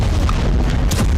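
Missile explosions striking Tehran, heard as a short burst of loud, rumbling booms with dense low-frequency noise throughout.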